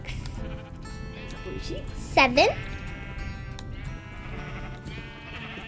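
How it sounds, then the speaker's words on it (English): A sheep bleats once in a children's counting game, a short wavering cry that rises over a child's steady counting and talk. "There's a sheep here."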